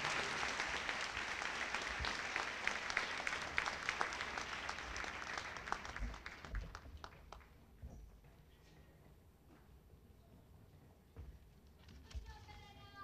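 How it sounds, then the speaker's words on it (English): Audience applause at a school 8th grade recognition award ceremony, a dense, steady round of clapping that fades out midway, leaving quieter room sound with a few scattered claps and some talk. "And a round of applause for those students."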